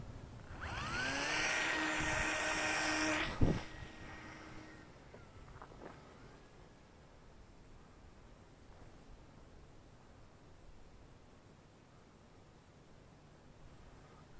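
A Dancing Wings Hobby Pitts 450mm brushless micro RC biplane motor whines up to a high buzzing pitch for a few seconds, is cut off after a sharp knock, and leaves quiet background hiss.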